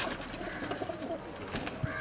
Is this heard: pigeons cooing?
yes